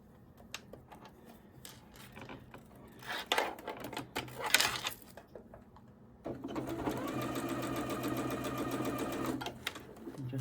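Domestic sewing machine stitching pieced quilt blocks together, running in one steady, close, whirring burst of about four seconds after some light handling and fabric rustle.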